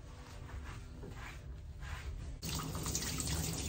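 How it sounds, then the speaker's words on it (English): A hose sprays water onto a Pomeranian's shampooed coat to rinse it out, a steady hissing rush close by that surges louder partway through, with no talking. "I put my hose all the way down to the skin and allow the water to push the soap out of the coat"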